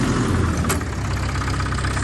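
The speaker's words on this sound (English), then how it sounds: "Just a solid old tractor" A steady, rough old tractor engine idles close by with a constant low rumble and faint knocking texture, no voices.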